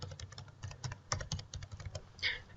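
Quick keystrokes on a computer keyboard as an address is typed into a business accounting program, a close, quiet run of uneven clicks with a brief pause near the end.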